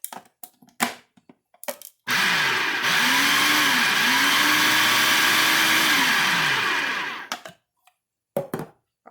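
An electric mixer whirs steadily through figgy pudding batter for about five seconds, loud and close, its pitch shifting slightly as it works. Brief bumps and clatters come before and after.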